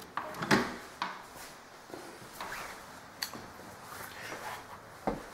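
A door leading to a laundry room in a rental home opens, producing a handful of soft knocks, latch clicks and brief creaks spread across a few seconds in a quiet room.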